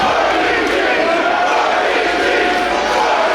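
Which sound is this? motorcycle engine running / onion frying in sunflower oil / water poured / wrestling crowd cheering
wrestling crowd cheering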